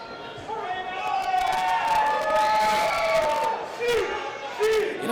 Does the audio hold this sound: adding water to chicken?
no